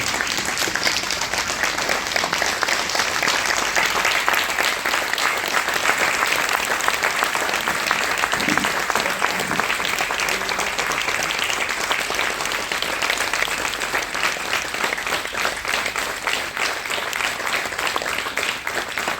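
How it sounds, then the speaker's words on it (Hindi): A large crowd applauds loudly and continuously, dense clapping holding steady for the whole stretch with faint cheers mixed in. "करतल ध्वनि से स्टैंडिंग ओवेशन देकर इसको अनुभव किया"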